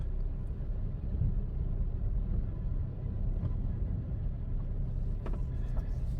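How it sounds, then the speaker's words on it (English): A high-mileage 2011 Honda CR-V with a drivetrain fault creeping in reverse, giving a steady low rumble with faint scattered clicks near the end. "It has a noise in the drivetrain."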